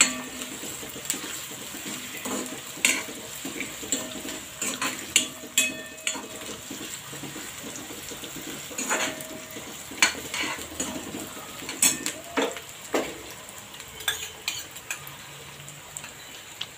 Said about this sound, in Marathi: आता हे चांगलं भाजून घेऊया। कांदा थोडा ब्राऊन होईपर्यंत।